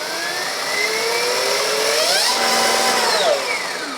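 A Stark Varg electric motocross bike revved with the throttle, a loud whining electric motor pitch climbing and falling in smooth sweeps, close up and steady.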